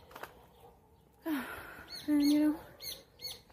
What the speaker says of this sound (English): There's so many birds.